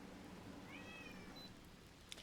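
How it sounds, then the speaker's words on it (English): Slinky the cat meows once for food, a single faint drawn-out cry in the background of a quiet room, with no one talking. "If you hear meow in the background, it's Slinky."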